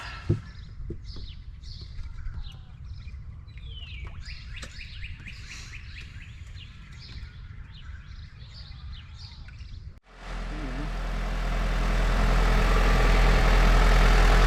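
Birds chirp steadily over a low engine rumble from a 2003 Honda Civic idling, then a much louder, broadband engine and fan roar takes over and builds toward the end, no talk.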